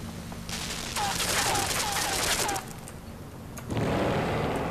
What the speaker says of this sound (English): Hopefully you don't get absolutely shredded by this machine gun down here.